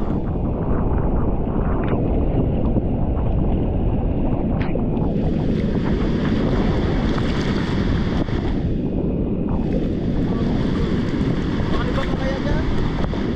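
A strong sea current and waves churn in heavy wind near a boat, a loud, steady roar with gusting wind buffeting the microphone. A voice seems to be talking under the noise.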